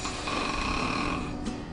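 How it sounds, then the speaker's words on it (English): Snoring from partial blockage of the airway, a sustained rough buzzing drone with a steady vibrating texture lasting nearly two seconds, heard alone at close range. "Snoring comes from a vibration in the airway that's normally due to partial blockage of the airway."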